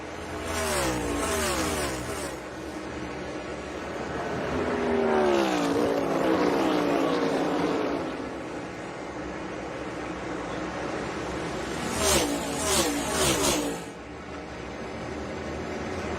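NASCAR stock cars roar past at Nashville Superspeedway, engines swelling and fading with sweeping pitch shifts as several cars pass in sequence, then a sharper burst of passes near the end, loud and close over crowd ambience.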